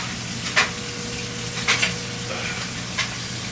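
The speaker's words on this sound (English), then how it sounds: "Let my sausage get all in there and start cooking with it." Steady sizzling hiss of sausage frying in a cooking pot fills the clip, with a few soft clinks and stirring bumps, close and constant with no talking.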